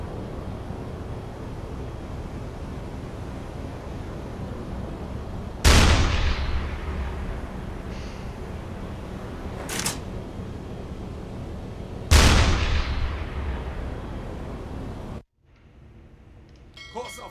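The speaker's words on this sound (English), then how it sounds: "Feuer an Deck." Two heavy booms from a submarine deck gun firing in the U-Boat video game, each a sharp loud blast with a long decaying tail, plus a lighter shot between them, over steady engine rumble before the sound drops away.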